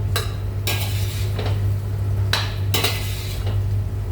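Whole mushrooms sautéing in a pan: repeated clattering scrapes and tosses of a utensil against the pan at irregular intervals over a low steady hum and soft sizzle, no voices.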